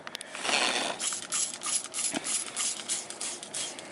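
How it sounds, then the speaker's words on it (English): All-purpose cleaner sprayed from a trigger bottle onto a car seat, a series of quick close squirts and trigger clicks in uneven rhythm, no talking. "I'm gonna spray this stuff."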